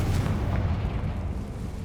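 A Confringo spell blast in the video game Hogwarts Legacy booms out as a heavy, rumbling explosion, loud and deep, sustained for nearly two seconds without any voice over it.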